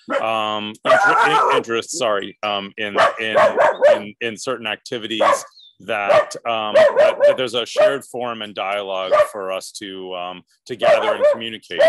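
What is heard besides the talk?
dog barking in the background during a video call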